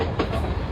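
Train riding toward Chicago, a brief steady rumble of carriage noise with wheel and track clatter, close and continuous.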